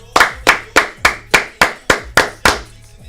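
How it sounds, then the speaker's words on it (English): Nine sharp hand claps ring out one after another at an even, brisk pace, close and loud with nothing else around them. "9 claps."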